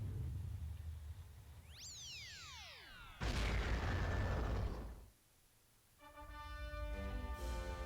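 A defeated boss blows up in Star Fox Assault, with a burst of falling laser-like sweeps, then a sudden loud booming blast that rumbles for about two seconds before fading into game music.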